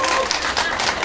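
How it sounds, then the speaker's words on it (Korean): Festival crowd at the Chuncheon Dakgalbi Makguksu Festival applauding a nanta drumming performance, a dense, continuous patter of clapping over a short burst, with talk mixed in. "큰 박수 한번 주세요"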